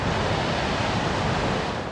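Ocean surf and wind by the sea, a steady broadband wash of breaking waves with gusty wind noise, continuous and fairly loud throughout.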